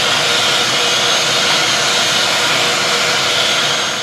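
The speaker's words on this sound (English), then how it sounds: "We'll vacuum it out." A vacuum cleaner sucks out the inside of a telescope tube during flocking, a loud continuous whooshing roar that holds steady throughout.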